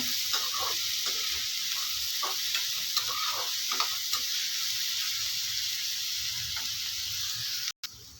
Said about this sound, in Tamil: வெங்காயம் நல்லா வெந்து வதங்கி ஓரளவுக்கு வதக்கி விட்ருங்க